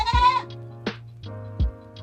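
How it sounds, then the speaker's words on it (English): A Savannah Nubian mix goat lets out one loud, wavering bleat, followed by a few shorter, quieter bleats and soft thuds nearby. "a Savannah Nubian mix. She is very loud"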